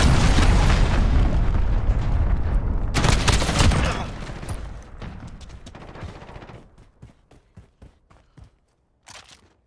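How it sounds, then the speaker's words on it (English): A cruise missile strike in Call of Duty: Modern Warfare lands as a loud, sustained explosive roar with a second blast burst. It then breaks into scattered crackling debris and sharp pops that fade toward near silence. "Enemy cruise missile incoming. Take cover."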